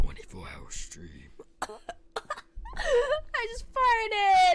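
A woman gives a brief cough amid her own ongoing talk and laughter during a live stream, close and fairly loud, with voiced noises before and after.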